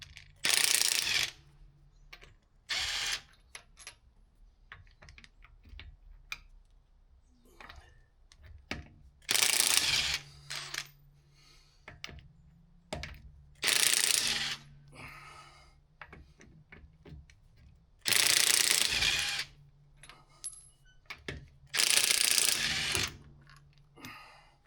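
Ratchet wrench loosening a wheel on a Mercedes, heard as repeated bursts of quick clicking pawl strokes separated by pauses, close and fairly loud, with faint mechanical handling between.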